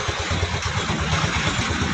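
A motorcycle engine chugs at idle up close, a fast even low putter with slight wobble that holds steady throughout, no voices over it.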